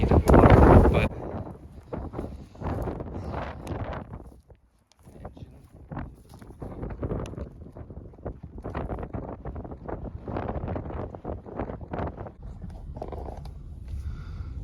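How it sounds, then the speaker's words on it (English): Strong gusts of wind buffet the microphone outdoors at a Datsun wrecking yard, giving loud, choppy bursts of rumbling noise that rise and fall throughout, heaviest at the very start. "again, guys, sorry about the wind."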